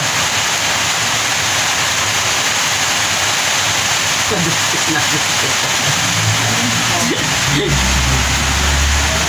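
Steady rain falls outside a shop, a constant broadband hiss that fills the whole clip, with a few faint voices and low rumbles underneath.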